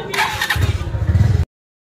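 A Hero Splendor motorcycle cranks over with a short starter whir, then its engine catches and burbles in a quick throbbing pulse up close before cutting off abruptly into silence.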